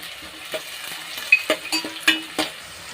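Onions and curry leaves fry in a pan with cumin and chana dal. A soft, steady sizzle runs throughout, broken by a few quick stirring scrapes and light clinks close by.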